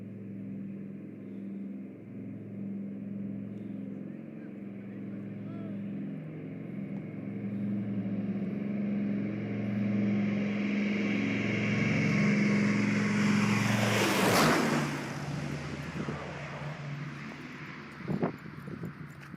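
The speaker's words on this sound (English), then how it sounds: "This DC-4 performing takeoff and low pass over spectators, giving them once-in-a-lifetime view on this magnificent flying machine." A Douglas DC-4 piston airliner takes off and makes a low pass over spectators: a steady multi-engine drone grows louder and brighter, peaks in a sharp close flyby whoosh near the end, then fades away.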